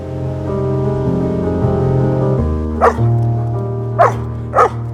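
A dog gives three short, sharp barks near the end, heard over a steady background of layered tonal hum.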